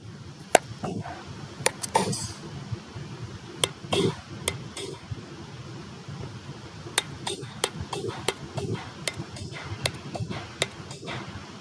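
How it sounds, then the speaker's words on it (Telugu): Jaggery broken and grated into small pieces in a kitchen, with sharp metallic taps and clinks at irregular intervals over a low background hum and soft handling noise. "ఈ పప్పు ఉడికేలోపు మనం బెల్లం కూడా చక్కగా చిన్న చిన్న ముక్కలు అయితే తురుముకుందాము"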